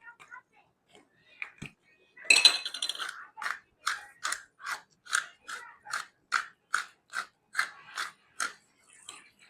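A hand-turned black pepper grinder cranks in a kitchen during high-protein meal prep, making a steady run of about a dozen evenly spaced, dry ratcheting crunches, close and fairly quiet.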